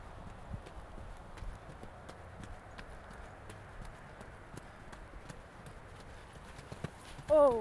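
Trotting horse's hooves clip-clop in a steady rhythm on an arena surface during a training session with jumps, moderately close, with faint background noise and a brief louder sound at the very end.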